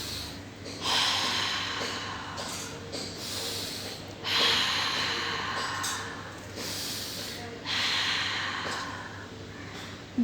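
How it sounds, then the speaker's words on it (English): Deep breathing while smiling: four slow, close, airy breath cycles, each a rushing inhale or exhale, repeating at a steady pace with no talking. "just bring a smile on your face and take a deep breath"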